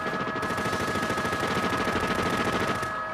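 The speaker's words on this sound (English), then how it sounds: "Officers find themselves against a fully automatic modified AK-47 with armored piercing bullets." A fully automatic modified AK-47 fires a long sustained burst of rapid, evenly spaced shots, loud and relentless for about three seconds, ringing against a steady tonal background.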